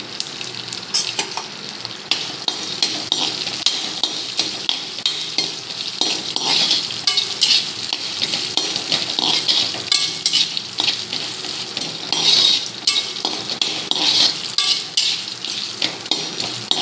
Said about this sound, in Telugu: అల్లం బాగా ఫ్రై అవ్వాలి.